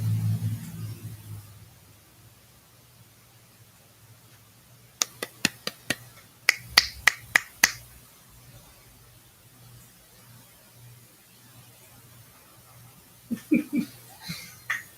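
Finger snaps and taps during a livestream microphone test come in sharp, distinct bursts: a quick run of about eight crisp clicks midway, then a few more near the end, set against a quiet room.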